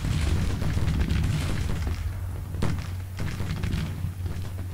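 Civil War artillery batteries fire in Grand Tactician: Civil War, a steady low rumble of distant booms with a sharper thud partway through.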